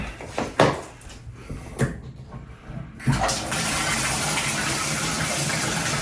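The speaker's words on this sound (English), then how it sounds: "Okay, now turn the shower on." Intermittent knocks and thumps, then a steady broadband hiss of water gushing and spraying, continuous and fairly loud to the end.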